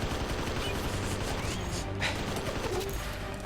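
Dense, continuous automatic gunfire from the Red Steel video game rattles at steady loudness, a wash of overlapping shots with no clear breaks.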